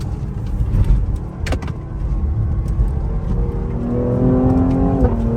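Cadillac CT5-V driving along a road with crisp gear shifts: a loud, close engine rumble with brief bursts, then a rising rev that climbs and cuts off at a shift.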